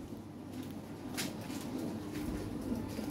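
Several high-quality pigeons coo in a low, continuous murmur, a soft steady rumble of overlapping calls close by with no talking.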